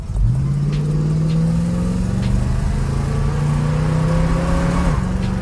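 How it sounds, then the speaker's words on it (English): A 1968 Ford Mustang with a 289 V8 pulls hard under acceleration, its engine note rising steadily and loud up close, then dropping sharply at the shift into second gear, where a brief tire chirp is expected. "Oh, it chirped into second."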